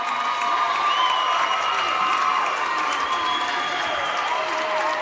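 At a gold medal ice hockey game, the Melbourne crowd stands and keeps up sustained applause with whoops and cheers, a broad, continuous roar of clapping under faint commentary.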